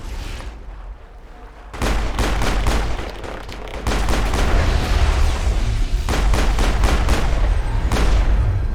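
Gunfire from the video game Mass Effect crackles in a dense, continuous barrage of shots and booms, loud and sustained throughout with brief shifts in intensity.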